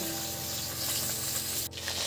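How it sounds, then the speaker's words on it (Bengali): Chitol fish fries in a pan with a steady, dense sizzle that runs continuously and close, briefly dipping near the end before resuming. "এখানটায় মাছ ভাজা চলছে"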